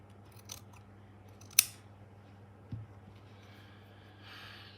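Scissors snip once, sharp and clear, while cutting material for a tulip botanical artwork, followed by a softer second snip in an otherwise quiet room with faint background hum.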